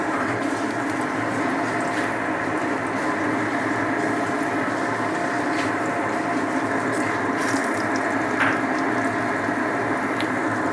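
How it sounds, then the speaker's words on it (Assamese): Masala fish fry, four pieces of fish dropped into hot oil in a pan, giving a steady, dense crackling sizzle that runs unbroken throughout with no voices. "এতিয়া মোৰ তেলখিনি গৰম হৈ গৈছে, আৰু মই এতিয়া ইয়াত মোৰ মাছখিনি দি যাম"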